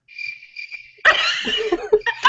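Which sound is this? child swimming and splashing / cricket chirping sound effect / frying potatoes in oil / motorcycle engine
cricket chirping sound effect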